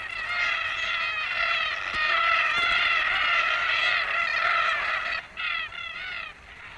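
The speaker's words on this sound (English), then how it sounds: "Red-tailed black cockatoos join in the fun." A flock of red-tailed black cockatoos calls continuously in Australian farmland, with loud, overlapping, harsh rolling cries that carry on with only brief breaks.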